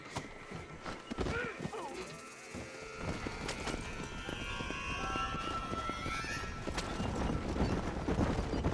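Horses pulling a wagon in Red Dead Redemption clop steadily over a busy mix of game ambience and talk, with a brief quiet gap early on before the hoofbeats and bustle grow louder.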